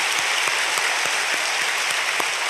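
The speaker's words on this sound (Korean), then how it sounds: "다시 한번 우리가 박수를 드리실까요?" A church congregation at a Sunday worship service claps steadily and evenly, with a few sharper individual claps standing out.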